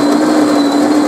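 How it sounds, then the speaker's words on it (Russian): A vintage coffee machine grinds beans with a loud, steady motor whine and a constant mechanical hum, continuous and close throughout. "Кофе мелет."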